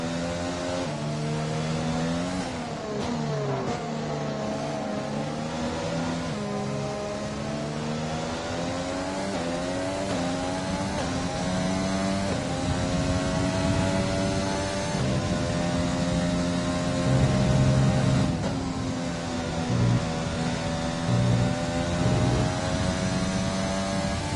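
Formula 1 race cars roar steadily in a PS5 F1 video game at the British circuit, with engine pitch sweeping up and down through gear changes and sustained loud revving throughout, no voices over it.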